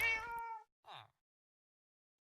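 Cats in the Minecraft video game meowing: one clear, close meow, then a shorter second one, and a brief faint sound at the end, with silence between.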